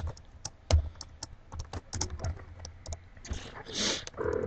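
Close, quick keystrokes rattle on a computer keyboard in an irregular run of sharp clicks, slowing into softer taps and a brief rustle near the end, with no voices.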